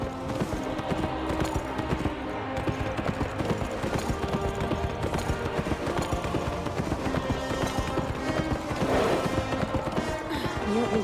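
Hooves of a trusty horse clip-clop steadily in Kameo: Elements of Power, a brisk galloping rhythm sitting inside a dense, busy game soundtrack with music and effects throughout.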